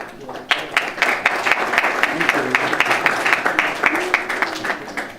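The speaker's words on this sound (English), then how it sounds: "Please give them a huge round of applause." An audience at a neuroscience and Buddhist psychology session applauds presenters with moderate, distinct handclaps, individual claps standing out in an uneven rhythm, while voices talk faintly underneath.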